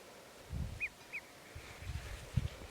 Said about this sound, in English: It's our little pet duck.